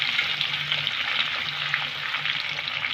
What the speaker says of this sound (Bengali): দুটো কাঁচা লঙ্কা দিলাম